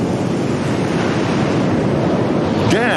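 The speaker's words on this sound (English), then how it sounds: "they were far harder to explore because they lay under a stormy sea." Stormy North Sea waves surge and wash in a continuous, loud roar of surf with steady wind noise, no voices present.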